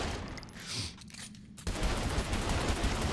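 Gunfire in Saints Row: The Third erupts after a quieter opening into a dense, continuous barrage of shots that stays loud and close to the end, with no speech.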